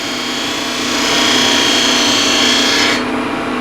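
A steady, close, loud hissing scrape as a 10 mm spindle gouge cuts into wood spinning on a lathe, swelling slightly in the middle and easing off near the end.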